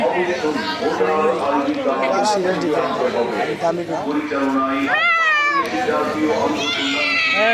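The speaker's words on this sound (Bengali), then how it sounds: "বাঙালি বিলাই হ্যাঁ" A cat meows amid the busy chatter of a traditional bird and pigeon market at Fakir Bazar in Barura, Comilla, with a rising, drawn-out meow standing out from the crowd noise and nearby talk.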